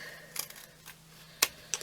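Scissors fussy-cutting stiff bubble wrap at a craft table, giving a few crisp snips with gaps between them, close and quiet.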